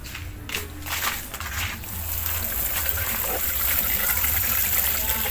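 Liquid fertilizer, freshly stirred, pours onto porous soil around a grape plant, making a continuous close splashing gush that swells and then holds steady, with no talk.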